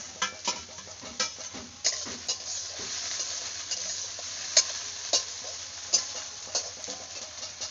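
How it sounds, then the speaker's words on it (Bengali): Fried potatoes are stirred into a frying paste of ground ginger, cumin, green chilli and coriander powder, with repeated scraping clinks of a spatula over a steady sizzle, close and fairly loud. "মশলার মধ্যে ভেজে রাখা আলুগুলো দিয়ে দেবো"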